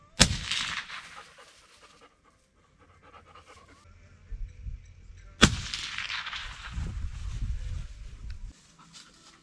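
Two loud rifle shots at a target 80 meters away on a South African impala hunt, each a sharp crack with a rolling outdoor echo, several seconds apart, with quieter handling noise between.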